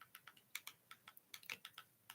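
Quick, irregular keystrokes on a computer keyboard used with a TV, each tap crisp and close, coming in uneven bursts with short pauses and no talking.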